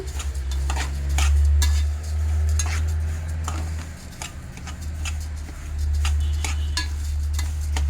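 Spices for homemade chili powder being dry-fried and stirred in a pan: rapid, repeated scraping and rattling of a utensil against the metal, close and fairly loud, with a low hum underneath.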